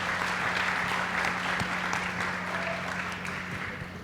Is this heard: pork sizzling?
no